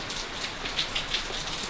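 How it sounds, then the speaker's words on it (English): Rain falls steadily outdoors, a soft even hiss with light patters of drops striking surfaces, no voices present. "you don't want to be setting off in the rain"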